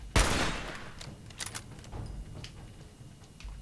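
Gunfire in the video game Fallout 4 opens with one sharp shot, followed by several fainter scattered shots and impacts at moderate volume.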